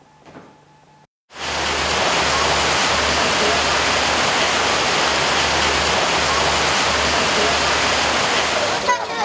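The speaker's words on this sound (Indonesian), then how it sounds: "Di tengah guyuran hujan deras," Heavy rain pours steadily in Bekasi outside the Kodim 0507 military command office, a dense, loud and unbroken hiss that starts abruptly after a brief quiet moment and holds to the end.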